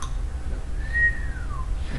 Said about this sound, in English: We got the whistle on the ball.